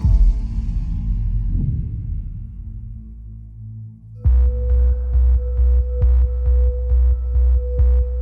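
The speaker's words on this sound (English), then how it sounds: "He heard and felt a low pulsing hum." A spaceship sound effect: a deep, loud hum fades away and then gives way to a steady, rhythmic low pulsing throb that repeats evenly, with no voices.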